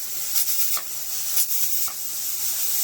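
Steam hissing from a leaking 23-quart aluminum pressure cooker, a steady bright hiss with small pulsing surges, fairly close and without speech.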